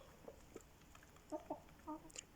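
Laying hens cluck softly in short, scattered bursts, a few nearby calls over a quiet outdoor background.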